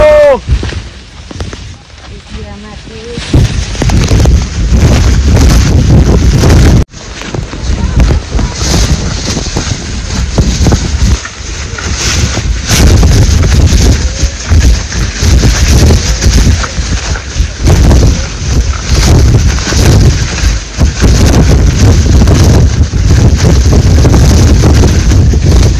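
Strong wind on Girnar mountain in Gujarat, a loud, steady roar buffeting the microphone with constant rumbling gusts that ease briefly near the start and drop out for a moment before surging back.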